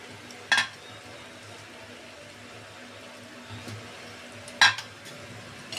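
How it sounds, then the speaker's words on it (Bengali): Chicken korma with milk being stirred in a pan, with a low steady sizzle underneath and two sharp scrapes of the spoon against the pan standing out. "এটাকে আমি এখন ভালো করে কষিয়ে নেব"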